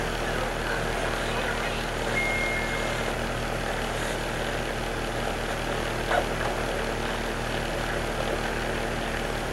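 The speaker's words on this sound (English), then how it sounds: "I can hear the plane" A propeller plane passes somewhere overhead, a steady low engine drone spread over a broad, constant background, with no distinct approach or fade and faint indistinct voices underneath.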